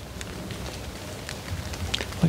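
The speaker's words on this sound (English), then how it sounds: "Still drizzling a little bit." Light drizzle falls outdoors near a creek, a faint, steady patter of fine raindrops with soft scattered taps, close by and without voices.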